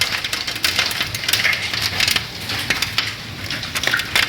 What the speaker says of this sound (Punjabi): ਇਹ ਤੇ ਗੜੇ ਵੱਜਦੇ ਆ